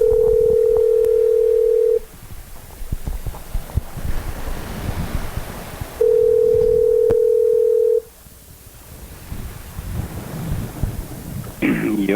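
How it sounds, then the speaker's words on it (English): Telephone dial tone on a call being placed, a steady tone for two seconds, then line noise and faint clicks, then the tone again for two seconds, followed by quieter hiss and rustling. "let's call Dan Bennett"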